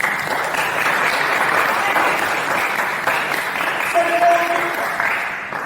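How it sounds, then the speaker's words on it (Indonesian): Audience clapping loudly and steadily throughout at a teacher training session, a dense continuous applause with a brief tonal sound partway through. "Tepuk tangan bagi kita semua"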